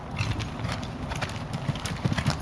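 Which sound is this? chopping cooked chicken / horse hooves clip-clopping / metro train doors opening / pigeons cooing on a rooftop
horse hooves clip-clopping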